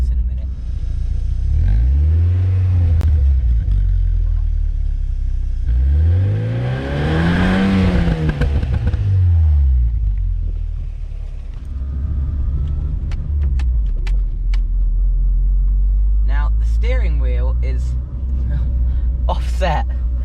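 A mk4 Volkswagen Golf Cabriolet with a 2.0-litre injection engine revs up and down in repeated swelling rises, its exhaust note rumbling close, followed by a steady drone with a few sharp clicks and whirs while someone talks over it.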